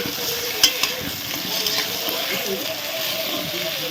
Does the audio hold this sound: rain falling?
no